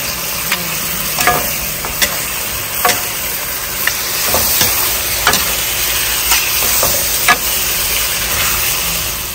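Home-cooked food being stir-fried in a pan with a continuous sizzle and hiss, punctuated by regular scraping and clanking strokes of the spatula against the metal.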